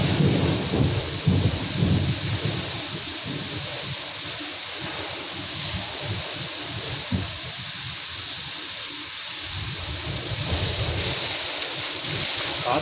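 Heavy rain and gusting wind during a thunderstorm in Delhi, a steady broadband roar with low rumbling bursts throughout, loud and continuous with no clear voices.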